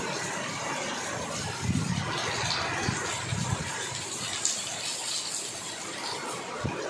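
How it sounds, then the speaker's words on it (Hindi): Heavy rain pours down in a steady, dense hiss with some splashing and gushing of runoff water, heard close and continuous without pause. "बहुत दिनों बाद बारिश हो रही है।"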